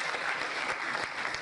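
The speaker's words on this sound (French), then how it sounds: "On applaudit." Audience at a talk on remotely controlling phones breaks into applause, a dense even wash of many hands clapping, moderately distant and steady for the whole short stretch.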